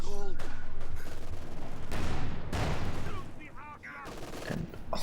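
Machine gun fire in a World War II real-time strategy match involving Panzer IV tanks and grenadier squads, rapid bursts crackling among explosions and other battle noise, with a commentator talking over the combat throughout.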